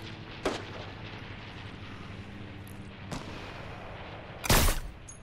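Enemy gunshots in Fortnite, with sharp broadband cracks at irregular intervals: one early, a softer one midway, and a loud, longer blast near the end over steady game ambience.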